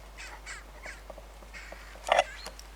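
A magpie calls near a decoy in a field, a few harsh chattering caws at moderate distance with one louder burst near the end, in an otherwise quiet outdoor setting.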